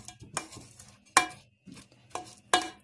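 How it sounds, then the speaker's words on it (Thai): Stirring rice porridge stir-fry in a rice cooker pot, with a utensil scraping and knocking against the pot in several sharp, separate strokes, close and fairly quiet. "คนผัดให้เขาเข้ากันจ้ะ"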